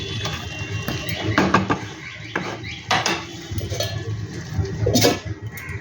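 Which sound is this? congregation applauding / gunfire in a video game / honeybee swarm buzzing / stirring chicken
stirring chicken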